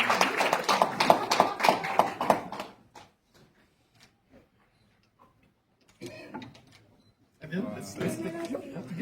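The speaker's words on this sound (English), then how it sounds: "Round of applause, please" Audience clapping at an international conference at the United Nations in New York City: a dense burst of applause for about three seconds, then near silence, then scattered clapping returning with talk over it.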